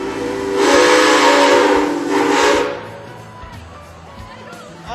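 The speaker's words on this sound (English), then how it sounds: "Hear that? It is a steam engine coming out to us all the way from Ottawa Lake, Michigan" A big steam engine from Ottawa Lake, Michigan sounds its whistle at a nighttime Christmas parade of lights: two loud, hissing blasts, near and strong, then quieter street noise.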